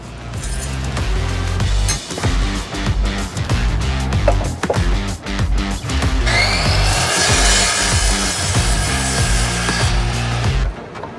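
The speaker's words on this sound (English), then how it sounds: "So I'm gonna cut this off, up, and then go out so we can drop the frame lower." A power tool cuts through the frame of a homemade electric crazy cart, a loud, harsh grinding whine that stutters in short bursts before settling into one sustained, brighter cut.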